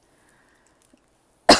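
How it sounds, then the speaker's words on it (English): A single sharp cough bursts out near the end after a near-silent stretch. "I shouldn't have to cough through this"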